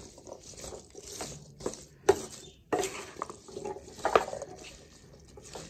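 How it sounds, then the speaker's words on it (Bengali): Prawns and onion stalks stirred and sautéed with salt in a pan, with soft scraping and clinking of a spatula against metal, a few sharper knocks, and faint sizzling throughout. "নুন দিয়ে ভালো করে কষিয়ে নেবো"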